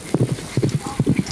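Hooves of a horse clip-clop at a steady walking rhythm on the open Kazakh steppe, close and clear in short repeated groups of beats with no talking.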